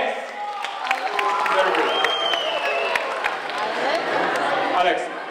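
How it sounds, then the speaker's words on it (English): A stage-show audience claps and cheers for a volunteer named Alex, a broad wash of applause and crowd noise under a presenter's voice, with a brief spoken remark near the start. "Big applause to Alex."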